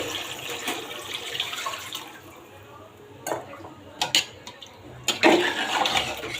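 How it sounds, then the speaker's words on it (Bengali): Water poured into a pot of chicken curry with potatoes, a soft pouring rush followed by several sharp clinks of a utensil against the pot. "আমি এখন আমার পরিমাণ মতো আমি জল দিয়ে নেব।"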